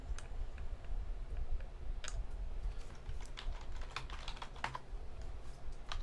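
Mouse clicks on a computer sound as sharp, dry clicks scattered irregularly over a low steady room hum, close by, with no talking.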